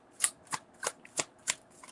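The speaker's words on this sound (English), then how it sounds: "I'm just shuffling to see what's coming up now." Tarot cards being shuffled during a reading, six crisp riffling bursts in a steady rhythm, close and fairly quiet, with no talking.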